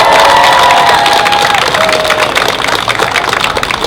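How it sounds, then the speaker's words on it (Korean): Election rally crowd in Nowon, Seoul, for a Seoul mayoral campaign, cheering and applauding steadily at close range, a dense wash of claps and shouts, with a whistle-like tone rising briefly above the noise. "박수 한번 보내주시기 바랍니다."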